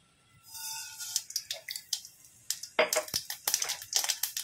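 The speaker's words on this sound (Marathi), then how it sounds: "मोहरी तडतडली की आपण कढीपत्ता घालायचा आहे" Mustard seeds crackle in hot oil in a pot, a fast series of sharp pops and spits close by, growing denser after an initial hiss.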